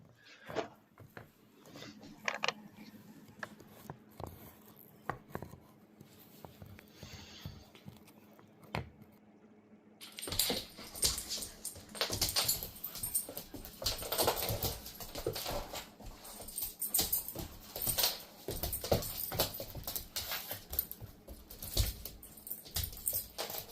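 Dogs in a living room make soft whimpers and whines, along with scattered patters and scuffles of paws. A louder, denser stretch of rustling and movement noise takes over partway through.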